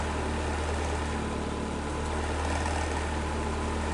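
A Suzuki Samurai engine idles steadily with a constant low rumble and broadband mechanical hum, continuous and fairly close throughout, with no voices.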